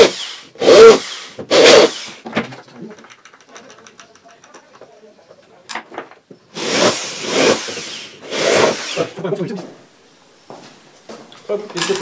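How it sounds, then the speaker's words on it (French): A router bit fraises holes in wood while building a router table, heard as several loud, harsh bursts of a few seconds each, separated by quieter gaps with faint talk and workshop handling noises. "Donc là on va monter la fraise, pardon, j'ai du mal à parler aujourd'hui. et on fraise nos trous."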